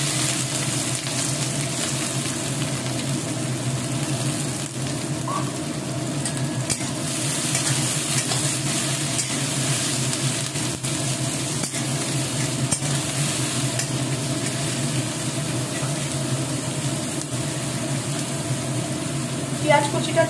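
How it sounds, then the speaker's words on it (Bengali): Chopped onion frying in hot mustard oil gives a steady sizzle with stirring, even and moderately loud from start to finish, with no talking. "পেঁয়াজ কুচিটাকে ফ্রাই করে নিচ্ছি।"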